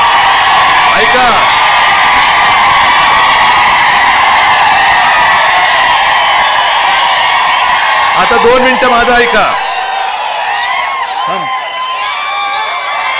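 A political rally crowd in Dharashiv, gathered for two politicians, roars with whoops, yells and cheering. Someone speaks loudly over the din, and the noise thins slightly near the end.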